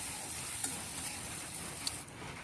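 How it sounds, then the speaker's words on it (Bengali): Onions frying lightly in a pan for a tengra fish curry, a faint continuous sizzle with a couple of small ticks of stirring, close and without speech. "পেঁয়াজটা আমার ভাজা হয়ে গেছে"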